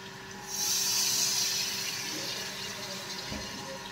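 Heated water hisses and rushes into a hot pot of mutton cooking in oil, starting abruptly and continuing steadily, with a faint background hum.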